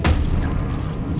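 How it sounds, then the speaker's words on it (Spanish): A deep, booming explosion in Hollow Knight, a sudden loud blast with a heavy low rumble that decays slowly over about a second. "¿has visto el radio de la explosión?"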